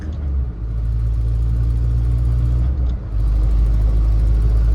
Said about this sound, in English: Let's say I went to fifth too early, I'm doing 40 and I'm kind of lugging